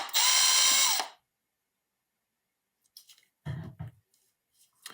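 A power drill whirs loudly for about a second while backing screws out of a Beacon Medeus Series B, then falls silent, followed by a few scattered clicks and light handling knocks.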